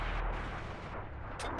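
A tank gun in World of Tanks: a single heavy, booming report with a rumbling tail, loud and close, followed by a brief sharper crack near the end.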